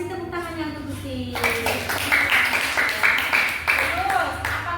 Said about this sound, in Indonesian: Kasih tepuk tangannya untuk Gusti.